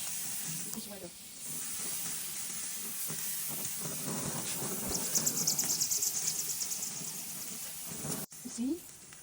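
Chicken pieces grilling on an outdoor barbecue in the sun, giving a steady broad sizzle and hiss throughout, with a brighter crackle midway and faint voices in the background.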